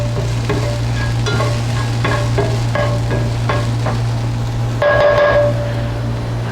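Food frying in olive oil in a pan on a gas flame, just starting to caramelize, makes a steady close sizzle with occasional stirring scrapes and a low hum underneath, and no one talks.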